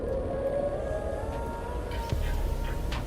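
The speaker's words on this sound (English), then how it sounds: "Why do I hear, like, siren music?" Eerie, siren-like music in the modded Minecraft pack GregTech New Horizons: a steady, wavering wail held throughout over a dense low rumble, with a few faint, brief higher chirps near the end.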